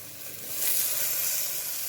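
A large chopped tomato lands in a hot pan for a flat bean curry, and the oil swells into a soft, steady sizzling hiss that lasts under two seconds with no talking.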